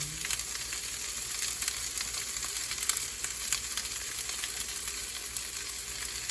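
Banana heart hits a pan of sautéed onion and garlic for ginataang puso ng saging, raising a steady, close sizzle of frying with faint stirring scrapes throughout.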